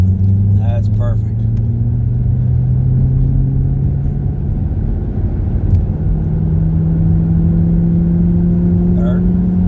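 A Ford Shelby GT500's engine drones steadily from inside the cabin during a first driving lesson, pitch slowly rising as it pulls through a gear, loud and continuous.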